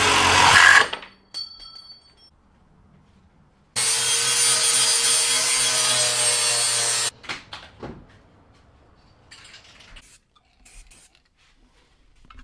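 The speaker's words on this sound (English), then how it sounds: "So I need to cut off about an inch or so I can move this over just a little bit" A power tool cuts about an inch off a metal bracket from an old pickup truck being restored. It makes a steady, loud burst of about three seconds, with scattered clanks and handling knocks before and after.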